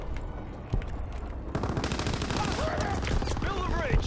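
Dense machine gun fire in Call of Duty: WWII, a sustained clatter of rapid bursts amid a busy multiplayer battle, with scattered shots and game effects layered over the steady roar.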